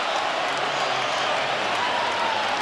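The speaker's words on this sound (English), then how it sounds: "Crowd reacting to video from another game." Basketball arena crowd during an NCAA men's tournament first-round game between Kansas and Howard, a broad, steady roar of murmuring, cheering and scattered applause filling the hall without pause.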